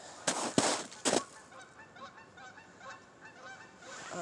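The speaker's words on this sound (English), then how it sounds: "The geese." Geese honk in a quick run of loud, harsh calls near the start, followed by fainter, scattered honking and outdoor background noise.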